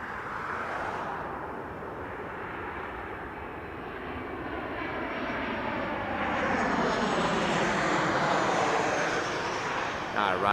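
Fixed-wing airplane passing at Las Vegas Harry Reid International Airport, a steady loud engine roar that swells as the aircraft comes closer, heard without speech over it.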